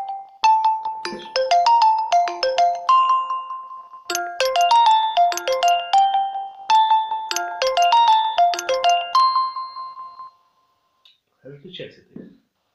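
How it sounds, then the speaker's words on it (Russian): A phone ringtone for an incoming call plays a bright, repeating melodic chime loudly and close for about ten seconds, then stops, leaving a few faint clicks and sounds. "Я извиняюсь, прошу прощения за то, что такой звонок был."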